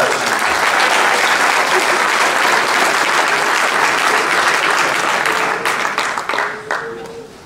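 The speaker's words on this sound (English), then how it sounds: "Give her another round of applause." A room of guests at a Muleshoe High School athletic banquet breaks into loud, sustained applause that holds steady, then thins into scattered claps before fading out.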